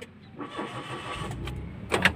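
A Mitsubishi Mirage G4 engine cranks and catches, then settles into a steady idle, close and fairly loud, after an oxygen sensor replacement.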